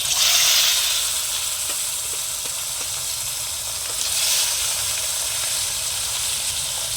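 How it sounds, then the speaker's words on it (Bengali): Bhola fish frying in hot oil in a wok, a steady, loud hiss of sizzling that swells briefly at the start and again midway, with no talking. "এবার আমি মাছগুলো ভেজে নেব।"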